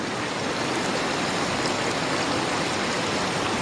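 A river flows past a woodland hiking trail, a steady, dense rush of water over rocks, close and continuous with no voices.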